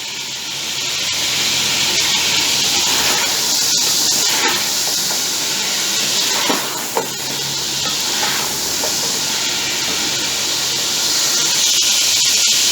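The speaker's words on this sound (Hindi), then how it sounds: "इस गोश्त की भुनाई के दौरान इसमें मैं हाफ टी स्पून नमक ऐड करने लगा हूँ।" Mutton frying for korma in a pot, a loud, steady sizzling hiss with stirring scrapes and a brief knock, close up and continuous without speech.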